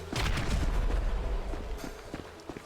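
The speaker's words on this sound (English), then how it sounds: "Okay, what about the grenades?" Grenade explosions in a video game played with a PS5 controller: a dense run of low booms and rumbling blasts, loudest early then tapering into scattered thumps, with no talk over it.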